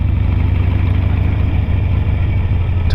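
Harley Sportster motorcycle engine running in a steady, close, loud low rumble with a continuous throb and no talk.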